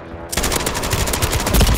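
Rapid automatic gunfire in Call of Duty erupts after a brief quiet start, sustained bursts of shots rattling on close and loud to the end.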